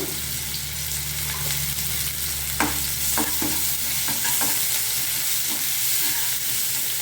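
Bottle gourd curry with turmeric and salt fries in a pan, a steady close sizzle with occasional scraping stir strokes of a spoon against the pan.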